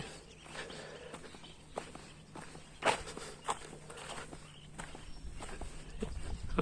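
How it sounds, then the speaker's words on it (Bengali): Soft footsteps crunch along a dirt path through a field near Arial Beel, Bangladesh, at a steady walking pace, with faint birds and open-air ambience around them. "এ পর্যায়ে আমি একটা মাঠের মাটির রাস্তা দিয়ে হাঁটছি"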